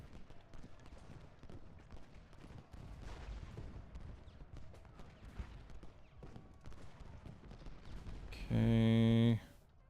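Distant musket and artillery fire in the Civil War strategy game Ultimate General: Gettysburg during the attack on Cemetery Hill, as a rumbling crackle of volleys, ending in a loud sustained tonal game sound.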